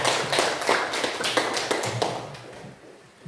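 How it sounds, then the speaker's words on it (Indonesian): Classroom applause from a group of students, a burst of many hands clapping at once that stays fairly dense, then thins out and fades toward the end. "kita berikan aplaus ya"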